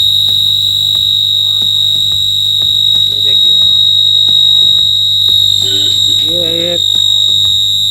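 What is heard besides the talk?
high-frequency test tone from function generator through amplifier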